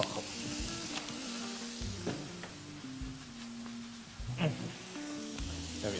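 Food frying and being stirred in a pan, with a steady sizzle under intermittent scraping and clinking of a utensil, fairly close, with faint voices and background tones from a live kitchen show.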